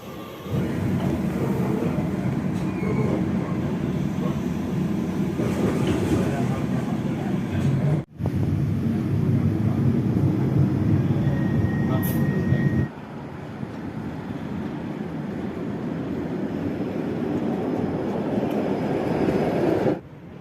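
Steady rumbling ride noise of a tram on Line 4 in motion, continuous low-frequency drone with a brief dropout midway, sounding close and enclosed.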